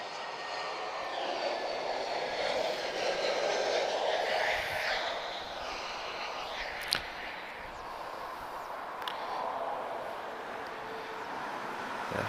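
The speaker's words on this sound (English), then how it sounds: "In the meantime, A321 Neo from Toronto." Airbus A321neo airliner arriving from Toronto at Lisbon Airport, a broad, steady engine roar held at a distance for the whole stretch, with a couple of faint clicks and no talking.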